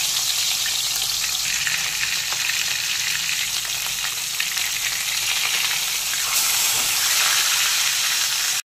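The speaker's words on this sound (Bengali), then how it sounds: "তেল গরম হয়ে গেছে, পার্শে মাছগুলোকে ছেড়ে দিলাম।" Turmeric-coated parshe fish sizzle steadily in hot mustard oil in a kadai, a loud, dense, unbroken crackle from start to finish with no voices.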